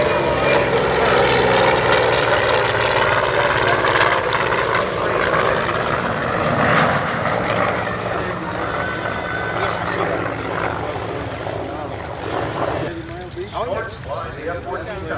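An F-14 Tomcat and an F6F Hellcat make a high-speed airshow pass at Oshkosh in 1989, a loud sweeping roar that shifts in pitch and slowly fades, with a commentator's voice over it.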